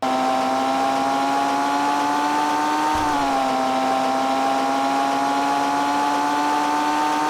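A car cruising at roughly 225 miles per hour gives off a steady, loud engine drone with a sustained tonal whine, which dips briefly in pitch partway through before settling back to an even pitch.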